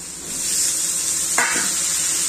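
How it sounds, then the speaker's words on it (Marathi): Potatoes tipped into a pan of sizzling spice tempering for a dry Marathi potato stir-fry, giving a sudden loud burst of frying partway through over a steady crackling sizzle, with no talk. "आता बटाटे टाकून घेऊया।"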